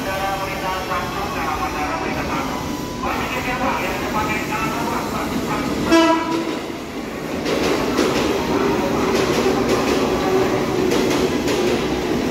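Train noise at Tanah Abang station's platform 1 as a KRL commuter train is present, a steady rumble and clatter running throughout with faint voices from the platform.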